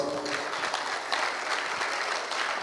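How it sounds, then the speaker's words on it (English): An audience at a seminar in Hyderabad claps in a steady, dense round of applause that is moderately loud and close, with no talk over it. "Big round of applause."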